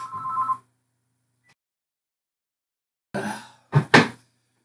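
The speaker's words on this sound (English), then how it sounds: "those are my phone calls that I get every day now" A telephone rings with an incoming call: a brief electronic ring burst, a long silence, then another ring followed by two sharp louder bursts, all near and clear with no talking.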